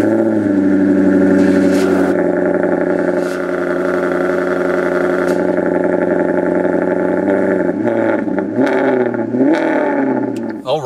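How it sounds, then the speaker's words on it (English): Maserati GranTurismo Sport V8 cold start, settling into a loud, steady, rumbling idle close by, with a few throttle changes near the end and no talking. "so firing up the GranTurismo"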